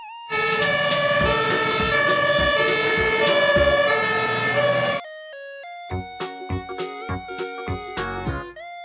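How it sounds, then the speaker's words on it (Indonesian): A loud fire truck siren wails and blares with horn-like tones, then breaks into shorter clipped bursts. "Mobil, truk, pemadam kebakaran."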